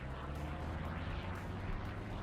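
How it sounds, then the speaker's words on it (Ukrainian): Steady droning roar of an enemy aircraft engine in the video game War Thunder, constant and fairly loud, with a rumbling low end and no speech. "О, це ж ворожий літак."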